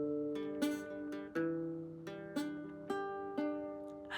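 Plucked guitar riff from a song, single-note lines ringing out with sustained overlapping notes, played alone at a moderate level with a steady, repeating rhythm of picked attacks.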